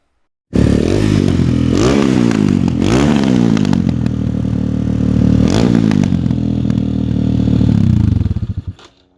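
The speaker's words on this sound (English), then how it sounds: "I bought a pit bike that wasn't running, and I got it running" A small pit bike engine, freshly revived after not running, idles and revs in a loud, steady drone with a few throttle blips and clattery mechanical noise, then cuts out near the end.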